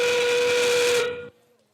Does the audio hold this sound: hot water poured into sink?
no